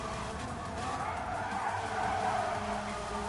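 Race car tyres skidding and smoking on a track in Gran Turismo 7 during a Nations Cup online race at Eiger Nordwand, Switzerland: a faint, steady engine-and-tyre roar with a sustained squealing skid, distant and continuous.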